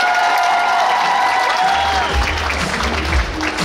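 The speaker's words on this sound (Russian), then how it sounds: "Поаплодируйте им!" An indoor festival audience claps and cheers for the youngest costume parade entrants, steady dense applause throughout, with a voice audible over it.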